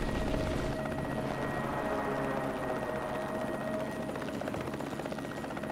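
A helicopter in the video game Mercenaries 2: World in Flames, its steady rotor and engine drone running continuously at moderate volume with a faint high whine, no voices present.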